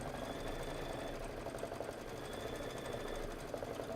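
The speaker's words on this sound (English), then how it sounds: "I'm just gonna let it stitch the whole thing." Sewing machine running a steady, continuous stitch across a quilted table topper, a close, even mechanical whir with a fast regular pulse and no pauses.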